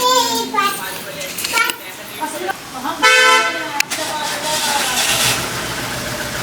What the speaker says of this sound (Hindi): वो लोग आ गए हैं अपनी कचरे वाली गाड़ी लेके, और लेके जा रहे हैं कचरा